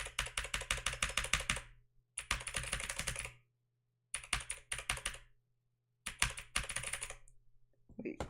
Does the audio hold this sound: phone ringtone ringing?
no